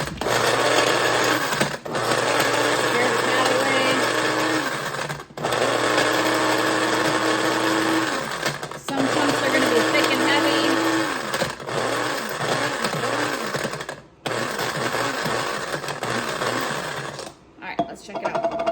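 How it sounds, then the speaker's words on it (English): A coffee grinder grinds dried zucchini into flour in loud, whirring bursts, separated by short pauses, with its pitch shifting as the pieces break down. "So we're gonna stick them in a coffee grinder."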